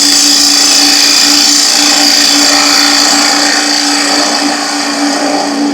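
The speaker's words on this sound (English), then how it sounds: "This is just using the traditional bowl gouge" A traditional bowl gouge cuts across a wooden bowl spinning on a lathe, toward the centre to true it up, giving a steady, loud, continuous whirring scrape with a constant motor hum and no pauses.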